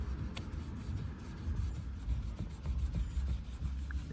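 A cloth-wrapped sponge rubbed over a scratch in car paint during a DIY scratch and stone chip repair, giving soft, quiet, continuous back-and-forth friction strokes heard close up without speech.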